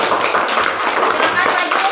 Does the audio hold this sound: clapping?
yes